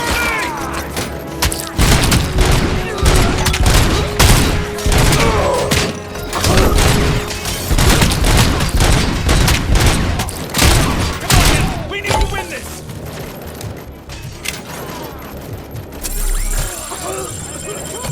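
Gunfire in the video game RoboCop: Rogue City, with rapid bursts of shots, heavy booms and thuds, and crashing impacts throughout, while game characters shout over the combat.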